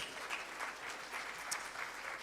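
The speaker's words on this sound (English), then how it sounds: "can we give a round of applause to the panelists?" Applause from a crowd, steady and continuous throughout, with dense clapping at moderate distance and no voices standing out.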